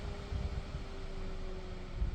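A MaxxFan camper roof vent fan powered from a power bank through a cigarette-lighter socket, running at low speed with a steady soft whir and a faint constant hum, heard alone and close.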